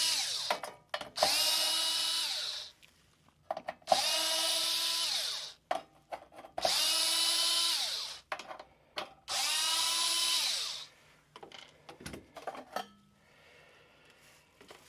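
A 5.5 mm nut driver unscrews the back of a 1984–1989 C4 Corvette instrument cluster, four whirring bursts of a couple of seconds each, separated by clicks and small handling knocks, close and alone.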